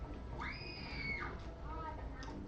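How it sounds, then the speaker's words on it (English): A scream from the 1964 film Santa Claus Conquers the Martians: a single flat, drawn-out high cry lasting about a second, fairly weak and unexcited, over a steady low background hum, with a softer voice trailing after. "That was the most unenthusiastic scream ever."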